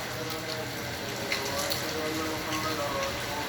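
Steady heavy rain patters on a surface in Kuwait, a dense continuous hiss with faint voices in the background.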